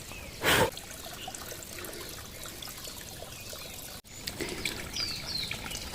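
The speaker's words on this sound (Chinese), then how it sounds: "终于是见到溪水了。" A mountain stream trickling through a valley in the Qinling range, with a steady close watery wash, a brief louder rustle near the start and faint bird chirps later.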